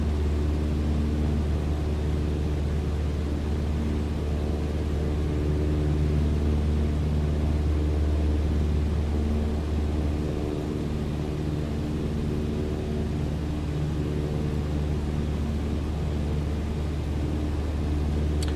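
Cessna 152 engine in Microsoft Flight Simulator 2020 drones steadily with a low, even propeller hum in cruise. The level stays constant and nothing else is heard.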